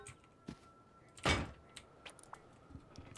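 Doors being placed in the Rust video game: one heavy thunk lands at the center, surrounded by lighter scattered knocks and clicks.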